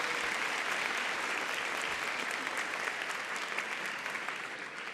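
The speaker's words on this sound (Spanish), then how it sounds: "un aplauso para Andrea Echeverry" An audience at a book fair tribute event in Bogotá applauds continuously, a dense, even wash of clapping that holds steady for the whole stretch and fades slightly near the end.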